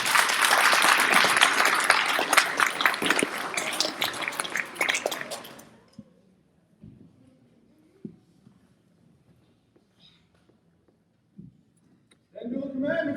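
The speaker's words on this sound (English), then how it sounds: "give a round of applause" Audience applause at the White Cloud Extravaganza 2022 show, a dense, loud roar of clapping that fades out after several seconds into near quiet with scattered small knocks, before voices and noise rise again at the end.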